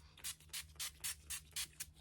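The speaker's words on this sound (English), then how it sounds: "I'm going to go in with the NYX Matte Finish Setting Spray" NYX Matte Finish Setting Spray misted onto a face during makeup application, eight short bright hissing spritzes in a steady rhythm, close and fairly quiet over a low background hum.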